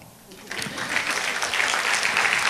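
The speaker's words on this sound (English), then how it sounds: "Y'all give a round of applause." Audience at a relationship talk in a city hall breaks into applause, clapping rising quickly from quiet to a full, sustained round.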